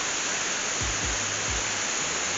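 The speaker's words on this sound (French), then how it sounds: "Et hop, la cascade qui tombe ici." A cascade tumbling down beneath a small bridge on an Italian road trip, heard as a steady, dense hiss of falling water with a few low thumps, constant and close.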